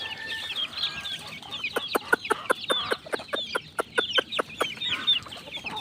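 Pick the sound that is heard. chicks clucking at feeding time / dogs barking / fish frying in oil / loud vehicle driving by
chicks clucking at feeding time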